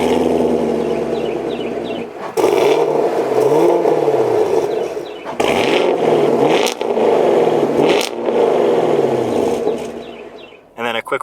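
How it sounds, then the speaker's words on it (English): A 2020 Chevrolet Camaro LT1 V8 in sport mode, heard from inside the car, gives several quick throaty revs that swell and fall back in close succession, loud and near, with a brief pause between bursts. "quick rev in sport mode from the inside. Nice throaty sound to it."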